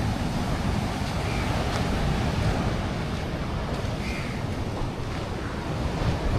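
Beach waves at Attappalam wash steadily ashore in a continuous, close, windy surf roar with no voices over it.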